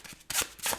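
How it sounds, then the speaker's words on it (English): Tarot cards are drawn from a deck with brisk papery slides and flicks, two short bursts of card rustle close up and on their own. "I'm going to draw some clarifying cards."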